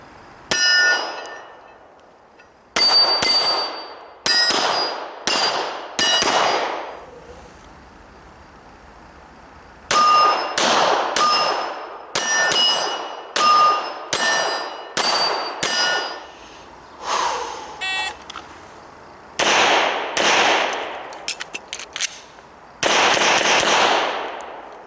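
Rapid strings of 9mm shots from a Smith & Wesson M&P pistol ringing off steel targets at a range, loud bursts of sharp cracks and metallic clangs in several quick volleys separated by short pauses, no talking.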